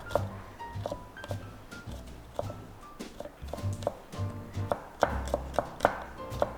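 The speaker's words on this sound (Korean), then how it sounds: "그냥 마늘 다진 걸로 하셔도 괜찮기는 합니다. 네. 이렇게 해서 다져주시면 돼요." Garlic minced with a knife on a cutting board for a jellyfish and cucumber cold salad sauce: close, irregular knife taps that speed up into a quicker run of sharper chops near the end.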